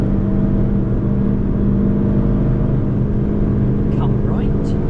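Car engine accelerating on the Nürburgring Nordschleife, a loud steady drone holding at full throttle throughout with continuous road and wind noise.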